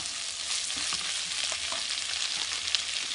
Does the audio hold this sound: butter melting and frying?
yes